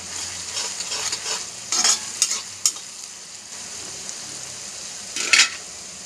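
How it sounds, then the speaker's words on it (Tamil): Onions sautéing until brown for a chicken gravy make a soft, continuous sizzle, with a few bright metallic scrapes and taps of the spatula on the pan and no speech. "வெங்காயம் பார்த்திங்கன்னா நல்ல ப்ரௌன் கலரில் நல்லா வதக்கிக்கோங்க"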